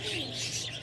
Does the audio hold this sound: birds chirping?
yes